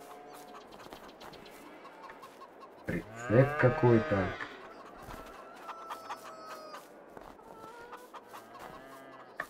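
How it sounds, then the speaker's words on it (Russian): Chickens cluck on a farm in the Farming Simulator 22 video game, a dense burst of clucking rising in the middle over steady ambient game noise, with someone briefly talking. "Курицы тоже, друзья, есть."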